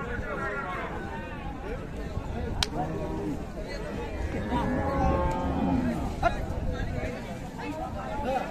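Friesian cows at the Raniganj cattle market in Dinajpur giving several drawn-out moos amid crowd babble, with someone talking close throughout.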